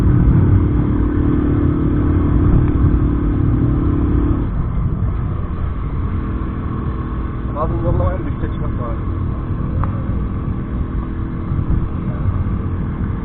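A motorcycle engine runs at full throttle while climbing a steep hill on a mountain road, a loud, steady drone with rising engine tones, joined by a voice talking over it.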